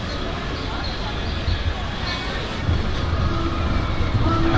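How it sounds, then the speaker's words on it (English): Ride aboard a Melbourne tram, a continuous loud rumbling and rattling interior noise with a faint tonal hum joining later, and people talking over it. "I'm on the tram now."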